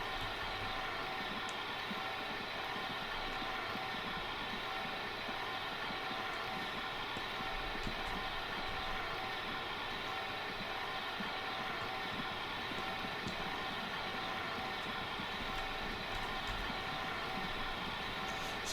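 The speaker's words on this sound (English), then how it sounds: "So our train is nearly here." Train approaching in the video game Transport Fever 2, a faint, steady rolling rumble with a soft broadband hiss, continuous and distant throughout.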